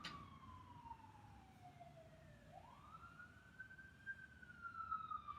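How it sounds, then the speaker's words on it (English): An emergency vehicle siren wails outside, a single rising and falling tone sweeping down then up again, heard at moderate distance and fairly faint against quiet background. "We have a siren, but keep breathing."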